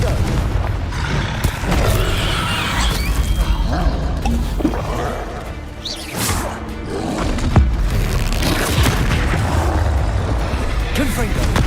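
Confringo blasting spells exploding in Hogwarts Legacy: repeated loud booming blasts in quick succession amid combat noise, with a voice shouting spell names over them.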